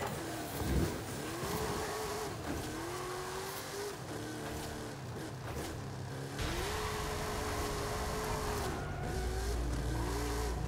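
A Ford F-450 Super Duty pickup engine revs and drones while drifting in Forza Horizon 5, its pitch rising and falling with throttle, with tire noise and steady game audio throughout and no talking.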